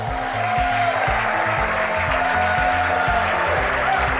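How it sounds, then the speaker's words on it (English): Crowd cheering and applauding at SpaceX Mission Control in Hawthorne during a Falcon booster landing, a dense continuous roar of clapping and shouting that stays loud throughout. "Crowds cheering here at SpaceX Mission Control Hawthorne as we tune in to see if we stick the landing."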